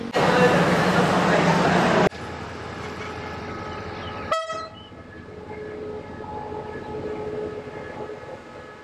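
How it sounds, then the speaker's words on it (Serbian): A local passenger train in Thailand, bound for Laos, rumbles loudly nearby, then cuts to a quieter scene where a horn blast sounds once, followed by a steady distant hum. "Lokalni voz za Laos."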